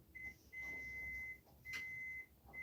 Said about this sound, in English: One probe on this pin, one probe on this pin, and my meter should beep when I press the button.